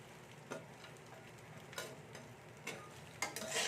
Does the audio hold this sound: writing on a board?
no